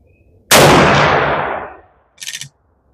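A single loud, close rifle shot from a Savage Axis II Pro chambered in .400 Legend, its sharp crack decaying over about a second and a half, followed by a brief fainter clatter.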